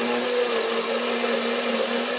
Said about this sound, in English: So I just stick on my NutriBullet thingy.